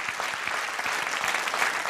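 An audience applauds continuously, a dense, even wash of many hands clapping close in a concert hall setting, without pause or voices.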